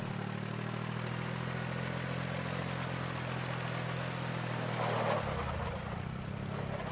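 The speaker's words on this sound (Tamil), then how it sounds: "நீ முதல்ல வண்டியில் ஏறு, வண்டியை கிளப்பலாம் நல்ல நேரம் முடியறதுக்குள்ள" A tour bus engine rumbles loud and steady, idling and then shifting as it pulls away, with a continuous low drone throughout.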